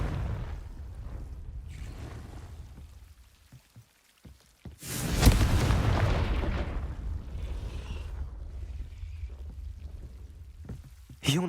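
In Hogwarts Legacy, a Confringo blast spell bursts into a loud, rumbling explosion mid-clip, followed by a long crackling, rain-like wash of debris, with game effects and some background sound before and after.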